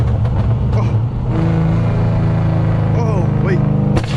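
A built and tuned Dodge SRT Scat Pack, not running the everyday 6.4, rumbles with a deep steady engine drone and a rising rev near the end, close and loud inside the cabin.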